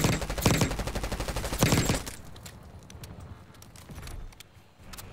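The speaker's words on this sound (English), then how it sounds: "I'm gonna shoot that fucking thing." Automatic gunfire from a Call of Duty match comes in two dense, loud bursts of rapid shots, then trails off into quieter scattered game noise and clicks.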